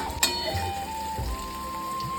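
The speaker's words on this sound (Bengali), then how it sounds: "আলুটা ভেজে নিচ্ছি" Potatoes frying in hot oil for a chana and soya kofta curry, a soft steady sizzle and crackle with a few louder pops and clinks near the start, close and without talk.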